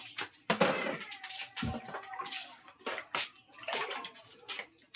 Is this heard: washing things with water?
yes